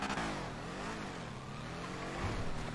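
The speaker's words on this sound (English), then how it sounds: "Car loud as hell, bro." Loud car engine revving nearby, a sustained rough roar with a slight rise toward the end, with no talking.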